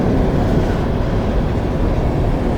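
A long coal train rolls past in Mount Hope, West Virginia, producing a loud, continuous rumble and roar of rail cars with no breaks or voices.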